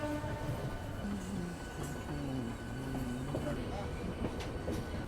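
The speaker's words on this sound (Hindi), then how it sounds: "फाइनली अब अपना अराइवल हो रहा है हावड़ा रेलवे स्टेशन पे" An express train pulling into Howrah railway station, with a steady rumble of wheels on rails and faint intermittent squeals and tones over the continuous background noise.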